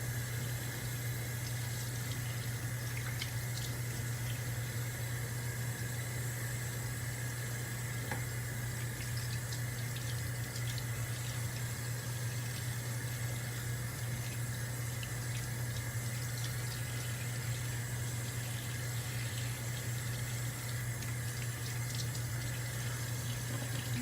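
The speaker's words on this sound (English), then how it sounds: "And then you'll wash it off with, you know, kind of like rubbing your hands." Tap water runs steadily into a sink while hands are rinsed, a continuous close splashing stream with a constant low pump-like hum underneath and no speech.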